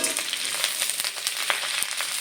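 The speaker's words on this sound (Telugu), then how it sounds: "మళ్ళీ కరివేపాకు ఫ్రై చేసుకోవడానికి కొద్దిగా ఆయిల్ వేసుకొని" Curry leaves crackle and sizzle in a little hot oil, a close, continuous hiss dotted with small pops, with no talking.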